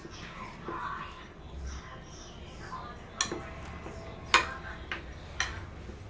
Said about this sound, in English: Go ahead and start stirring, Mama, with the spoon that we already have in there